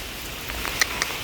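Rain from a typhoon falls in a steady, hissing wash, with a couple of sharper drops tapping through it.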